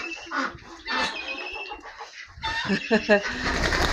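Chickens cluck and squawk close by with a burst of flapping as they fly up, a person speaking briefly among the birds.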